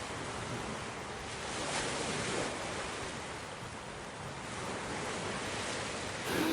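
Waves rolling onto a beach on the north side of Penang Island, a continuous broad surf wash with gentle swells in loudness, no voices.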